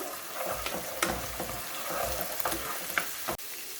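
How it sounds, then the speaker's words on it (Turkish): A spoonful of tomato paste fries in a pan while being stirred, a soft continuous sizzle broken by scraping and clicking utensil sounds, close and fairly quiet, with no talking. "Kavurmaya, salçanın kokusu çıkıncaya kadar kavurmaya devam ediyorum."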